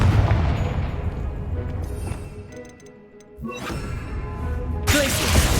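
Confringo fire spell blasts in the video game Hogwarts Legacy, several booming bursts with crackling tails, one heavy impact near the start and another loud burst near the end.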